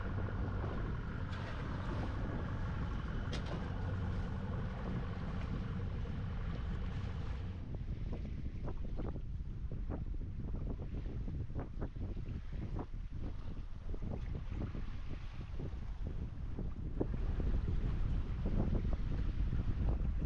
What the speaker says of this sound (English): We're currently sailing over the north side of the Ross of Mull on the island of Mull